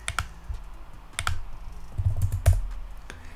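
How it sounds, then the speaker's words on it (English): Several crisp keypresses on a computer keyboard, a few separate clicks and taps spread over a few seconds, close and clear, as a keyboard shortcut is typed in 3D modeling software. "I'm going to use the keyboard shortcut F to focus in on my model"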